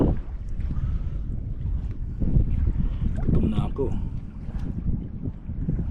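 Strong wind buffets the microphone with low, rumbling gusts while a person speaks briefly over it.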